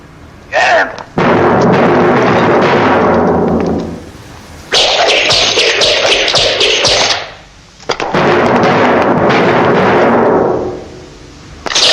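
Firecrackers explode in Rome in long, loud, rapid crackling strings, two extended bursts separated by brief pauses and close to the listener.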